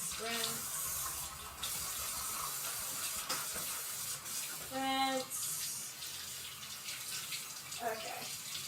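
Tap water running over a cutting board being rinsed in a kitchen sink, a steady hiss of flowing water throughout with a brief voice-like tone in the middle.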